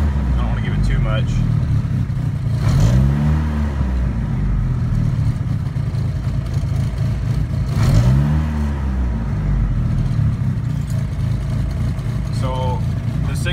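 A car engine idles steadily and then revs up twice as the throttle is pressed, the pitch rising and falling each time, close by and continuous, with faint talk over it.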